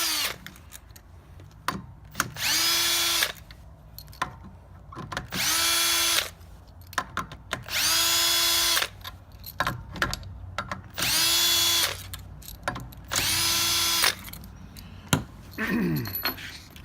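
Power tool, likely an impact driver or drill, backing out 10 mm bolts on a Clearstream CS103 pump during a rebuild, in five loud buzzing bursts of about a second each, separated by quieter gaps with faint handling clatter.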